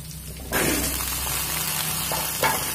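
Cut potatoes dropped into hot oil with curry leaves, a sudden burst into a steady, dense sizzle with faint stirring, close by.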